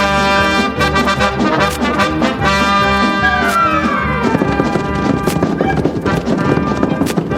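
Hooves of ridden horses clip-clop at a steady trot, loud and close, under a busy orchestral music score.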